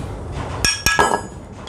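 A hammer knocks a loose, faulty front bearing out of a noisy water pump, with three sharp metallic strikes in quick succession against quiet workshop background.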